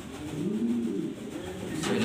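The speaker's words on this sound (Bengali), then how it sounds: "সো ভিউয়ার্স দেখতেই পারতেছেন এটা মাদি কবুতর" A female pigeon coos in a low, continuous burbling murmur, close by and moderately loud, with faint bird chirps in the background and no talking.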